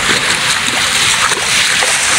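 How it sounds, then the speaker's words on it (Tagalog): Big ocean waves splash and slosh against a small fishing boat at sea, a steady loud broadband wash of water filling the whole moment with no pause. "Malaking alon"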